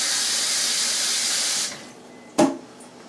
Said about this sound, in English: Rinse the hand.